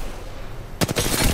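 Gunfire in the video game Apex Legends: after a moment of low background noise, a sudden close burst of rapid shots rings out loud and sharp.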